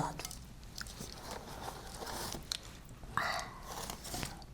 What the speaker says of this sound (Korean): 근데 사실 후라이드에 양념 소스 묻힌 게 근데 얘가 더 바삭하잖아.